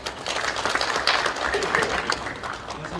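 Steady applause from an audience, a room full of clapping hands sustained throughout at moderate loudness.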